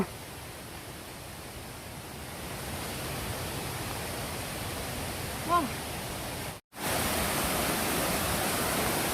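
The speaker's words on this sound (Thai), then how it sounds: "ก็ได้ยินเสียงน้ำตกชัดเจนขึ้นครับ" A steady rushing roar of a waterfall on a forest hiking trail, continuous and fairly loud, briefly cut by a moment of silence before resuming.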